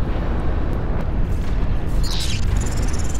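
A transport is shot down in the strategy game Planetary Annihilation Titans, setting off a loud, sustained explosion rumble that fills the whole stretch, with a brief high whine near the end.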